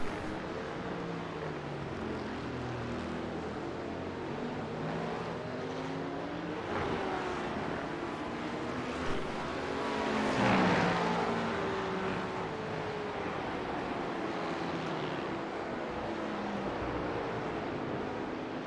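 Porsche Cup race cars run side by side at Jerez, a sustained engine drone at moderate distance with shifting pitch sweeps and a brief swell as they pass, without voices.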